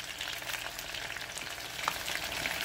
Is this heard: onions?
yes